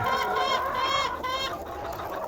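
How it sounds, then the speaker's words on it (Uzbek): Large Australorp roosters and hens clucking together in a poultry yard, a steady close chorus of overlapping clucks and calls with no talk. "Mana birinchi partiya xo'rozlarimiz"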